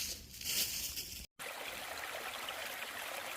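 A steadily flowing stream on the Appalachian Trail, a broad continuous trickling rush that cuts out briefly for a moment and then resumes at an even level.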